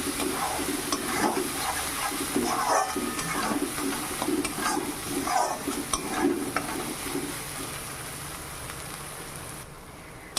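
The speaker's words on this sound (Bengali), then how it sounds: "মশলাটাকে একটু কষিয়ে নেব ভালো করে তেল ছাড়া পর্যন্ত কষিয়ে নেব" Spice masala with coriander powder frying in oil and stirred for a chickpea curry: continuous close sizzling with rhythmic scraping strokes of the spatula, easing off toward the end.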